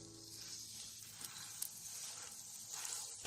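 Vegetable tempura in batter frying in a small amount of hot oil in a wide, flat pan, giving a steady, fairly quiet sizzle and hiss with soft crackles throughout.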